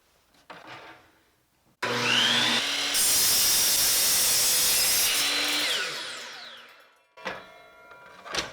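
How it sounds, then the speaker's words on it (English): Miter saw with its factory blade spinning up and cutting through a board, a loud steady whine and cut lasting several seconds before winding down, with faint handling noise before and after. "Now I need to cut a board on this."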